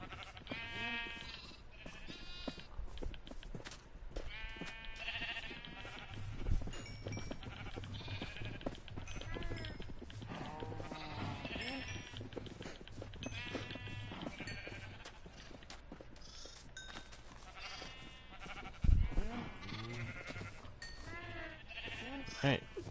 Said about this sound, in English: I'm actually going to go ahead and breed sheep.